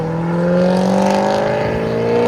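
A C6 Chevrolet Corvette with a 6.2L V8 and a freshly fitted aftermarket exhaust, not yet tuned, revs up with a steady rising engine note, loud and close, with no talk over it.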